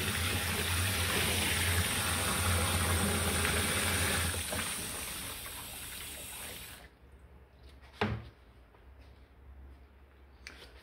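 Water sloshes and gushes steadily around a tanned fox hide being washed in a shallow basin, loud and continuous for several seconds before easing into quieter drips and a single sharp splash.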